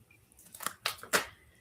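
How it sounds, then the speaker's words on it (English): A deck of tarot cards shuffled close up: three quick papery riffling bursts in a row, soft and short, with a quiet room otherwise. "Let me shuffle real good."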